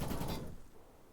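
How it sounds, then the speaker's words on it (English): Gunfire in Counter-Strike on the Nuke map during a competitive match: a dense burst of rapid shots in the first half second, then fading echoes and quieter ambience. "a lot of gunfire being exchanged"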